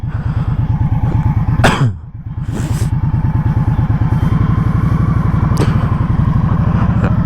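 An Indian Scout motorcycle rumbles steadily while riding, its engine pulsing loud and close, dipping sharply during a gear shift before settling back into the same throbbing beat, with a couple of clicks.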